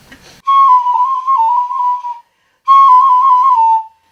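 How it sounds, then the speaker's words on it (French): A small hunters' whistle from Burkina Faso sounds two long, steady, piercing tones close by, the first about two seconds and the second slightly shorter after a brief silence, alone without talk. "Voici un petit sifflet des chasseurs du Burkina Faso."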